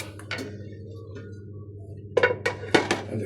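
A lid set down on a pot of country-style chicken curry with fried onions: a few close, sharp metallic clinks, loudest in a quick cluster at the end.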